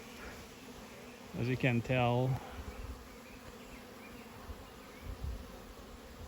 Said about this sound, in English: that's a lot of bees trying to get in, coming in and going out.